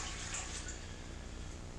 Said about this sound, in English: once you've mixed it, you add the cold water